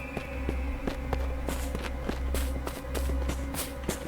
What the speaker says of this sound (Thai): ได้ยินเสียงฝีเท้า